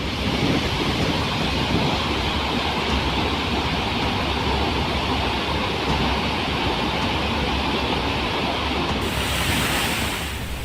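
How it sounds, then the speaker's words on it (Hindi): A torrent of water pours down the Mahadev Khoh waterfall in the Kaimur hills after torrential rain, making a loud, continuous roaring rush with no breaks and no voices. "अपार जल सैलाब की तरह झरने के नीचे गिर रहा है, निरंतर बेपरवाह बेहिसाब और सब कुछ बहा ले जाने को बेताब।"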